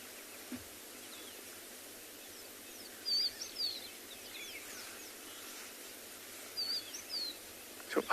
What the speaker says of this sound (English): So I hope you can all hear the bird calls in the background.